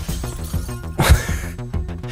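Glass shatters in the video game SIFU: one loud, bright crashing burst in the middle, set against a steady, rhythmic in-game music track that continues before and after.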